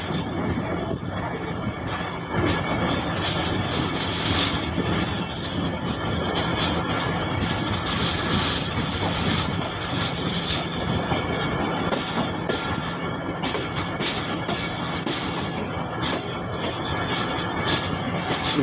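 Sir Syed Express passenger train switching tracks onto the down main line, a loud, continuous rolling rumble with wheel squeal and rail clatter throughout, close by.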